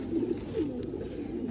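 A male pigeon of an old breed coos in low, throaty, rolling phrases at close range, repeating in soft bursts without pause.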